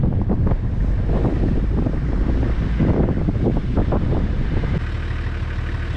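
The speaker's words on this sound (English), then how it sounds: "once again, you're on the windy side, like Vic said" Strong wind buffets the microphone at an exposed beach campsite in a national park near Port Lincoln, a loud, constant rumble with gusty surges throughout.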